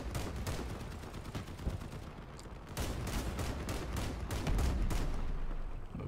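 Sustained gunfire in the Crossout vehicle combat game, dense rapid shots overlapping with heavy low rumble, continuous and loud throughout with bursts of sharper cracks.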